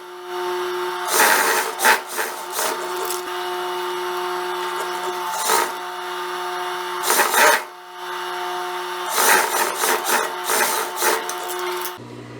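A sewing machine stitches a fabric strap for a jumpsuit. A steady mechanical hum runs throughout, broken by several loud bursts of rapid stitching with short pauses between them.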